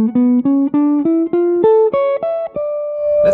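A clean, bright jazz guitar plays a quick single-note run built on a G Lydian dominant sound, about a dozen plucked notes stepping upward in a steady rhythm, then a held final note.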